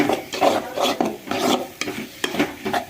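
Egg fry (muttai poriyal) stirred in a pan: close, rhythmic scraping strokes of a spoon across the pan, repeated every half second or so over a soft sizzle.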